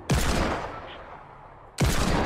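Two loud gunshot blasts in the video game Fortnite, one at the start and one near the end, each a sharp close crack trailing into a long echoing decay.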